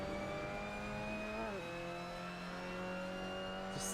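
Race car engine in the Gran Turismo racing game, a steady droning hum that shifts pitch briefly as the gear changes, then settles into a constant whine.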